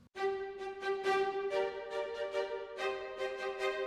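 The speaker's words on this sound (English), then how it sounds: "So normal spiccato sounds." Rapid, bouncing spiccato bowed string notes from a sample library repeat in a quick, even pulse, bright and moderately close, with no voices.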